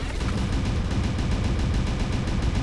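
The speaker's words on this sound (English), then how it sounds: "There's your Gatling cannons for you." Gatling cannons in MechWarrior Online fire a loud, continuous rapid burst of rattling shots that lasts throughout with a steady machine-gun rhythm, close and dominant, with no talk over it.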